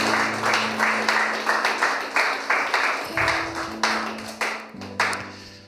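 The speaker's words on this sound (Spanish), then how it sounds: "Vamos a dar un aplauso a Dios." Church congregation claps in a steady, rhythmic beat, each clap sharp and evenly spaced, while sustained instrumental tones hum beneath and shift pitch partway through before the clapping fades near the end.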